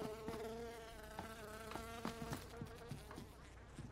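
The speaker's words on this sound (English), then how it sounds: "I heard a fly, or a mosquito, I don't know, whatever. But, it's the, oh, there are flies" Flies buzzing in PUBG, a close, droning insect whine that wavers in pitch and stays steady throughout, with faint clicks underneath and no speech.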